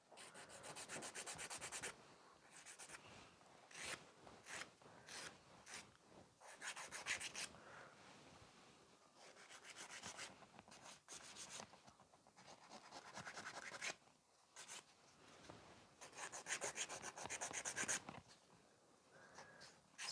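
Builder gel on a sculpted stiletto nail is filed by hand in close, scratchy rasping strokes that come in irregular bursts with short pauses between them, and no one speaks.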